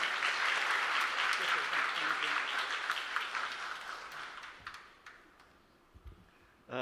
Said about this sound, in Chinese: 我们用拍手来欢迎